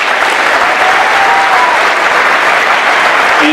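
A crowd gives a big round of applause at a Wreaths Across America ceremony at a high school, steady and loud clapping held close for several seconds with no talk over it.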